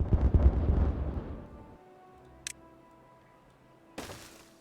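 A blast clearing trees in the Timberborn game: a loud rumbling burst up front that fades into a low hum, followed by two brief sharp crackles later, with no talking.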